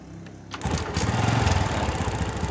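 A Honda Revo motorcycle engine, fired without its spark plug cap, cranks briefly and then catches into a steady, close, rattling idle.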